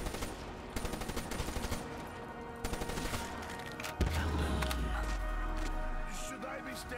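Automatic gunfire from a weapon in Call of Duty Black Ops 3 Zombies rattles in rapid bursts, followed around the midpoint by a heavy, sustained low rumble of continuous firing under dense game noise.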